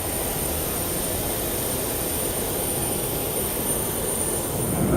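Airplane engine noise fills the cabin before landing in Italy: a steady, loud broadband roar with a thin high whine, unbroken and without speech.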